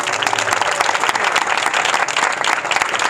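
An Easter Sunday congregation applauds during a pastor's sermon: dense, loud, sustained clapping from many hands, close and continuous for a few seconds.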